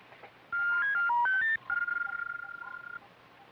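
A telephone is dialed in a 1965 submarine adventure drama, a quick run of distinct push-button tones followed by a longer pulsing line tone, clear and close with no talk.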